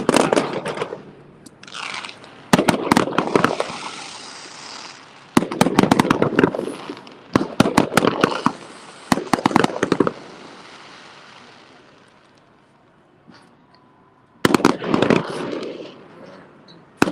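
Fireworks after a Rochester Red Wings baseball game near Kodak Tower, bursts of rapid crackling bangs in separate clusters with quiet stretches between, fairly close and loud.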